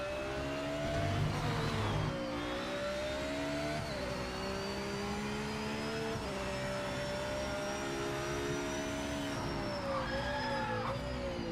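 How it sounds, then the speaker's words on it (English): A race car engine in the video game Project Motor Racing drones and whines steadily, pitch sliding up and down through gear changes with a sustained revving tone, no talk over it. "is the engine sound okay?"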